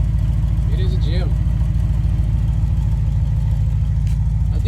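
Steady low rumble of a 1992 Ford OBS pickup idling with a partly clogged exhaust, close and continuous, with brief voices and chirpy sounds over it.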